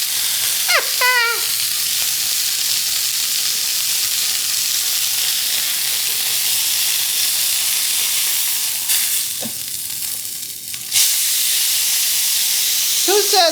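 Bourbon sizzling and splattering in a hot pan over a flame while a brown sugar pot roast is prepared, with a loud continuous hiss throughout, a brief dip and a few faint clinks.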